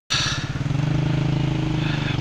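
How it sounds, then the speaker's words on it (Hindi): Small 70cc motorcycle carrying two riders labours up a steep road near Hussainabad waterfall in Skardu, its engine a steady close pulsing drone that holds without letup. "हमारी बाइक जो हाँफ गई है क्योंकि 70 है और हम दो बंदे बैठे हुए हैं"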